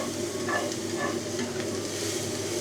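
A cast iron frying pan being seasoned sizzles steadily on the heat, a constant close hiss with faint crackles and no talking.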